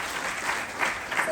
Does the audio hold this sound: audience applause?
yes